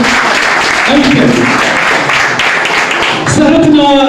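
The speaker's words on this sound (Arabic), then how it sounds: "أعطونا تصفيق حار على كل الحضور الكريم" A crowd at a chaabi music evening in Blida, Algeria, claps warmly in dense, sustained applause that fills the hall, with a voice rising over it near the end.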